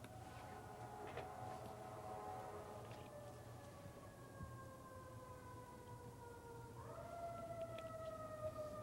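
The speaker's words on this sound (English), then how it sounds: "Let's wait till the sirens stop here." Distant wailing sirens with long rising and falling tones over a low rumble of background noise, continuous throughout.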